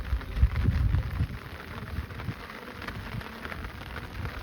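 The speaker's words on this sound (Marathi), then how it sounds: "पाऊस उघडतोय का नाही भाऊ उलटा जोरा चालू झाला" Heavy monsoon rain pours steadily on a hillside, a dense hiss of drops with a few heavier thuds early on and no voices.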